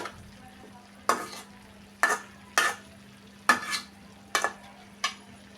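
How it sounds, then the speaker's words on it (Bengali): Ginger paste, salt, turmeric, chilli, cumin powder and a little water are sautéed in a pan, with about seven distinct scraping stirs over a low, steady sizzle. "আর একটু নেড়ে ছেড়ে কষিয়ে নিব।"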